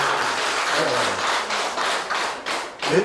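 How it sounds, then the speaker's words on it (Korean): Studio audience clapping at a talk-style lecture session, a dense patter of hand claps sustained for about three seconds, fairly close and steady, with a louder burst near the end. "이 정도 덕담을 해주시면 이제 박수 한번 주셔야죠"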